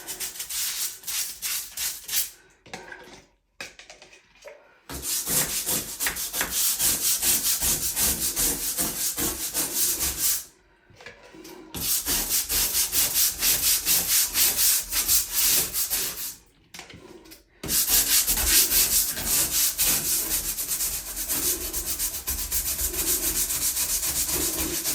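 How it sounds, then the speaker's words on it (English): A grout brush scrubs dirty shower grout in long, rapid back-and-forth bursts of close, loud rasping, broken by three short pauses. "now I'm gonna grab my grout brush for the last wall"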